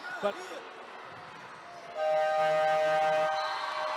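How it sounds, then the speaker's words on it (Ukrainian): Over a faint, murmuring background of crowd and arena noise at a women's friendly football match between Italy and Ukraine, a steady, loud horn-like siren marking the end starts halfway through and holds to the end. "Лунає сирена, яка сигналізує про завершення першої товариської зустрічі між Україною та Італією."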